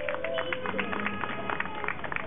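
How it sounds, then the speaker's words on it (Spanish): Applause at an outdoor rally for justice in Mexico, a broad steady patter of many hands clapping at moderate distance, mixed with crowd noise and some voices underneath. "Un abrazo, un fuerte aplauso para Dulce."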